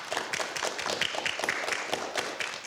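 A live audience at a youth event claps together in steady, dense applause that fills the room, without any talking.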